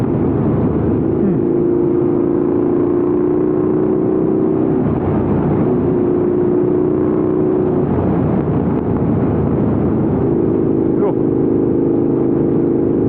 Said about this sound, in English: Big meaty cylinders just firing away.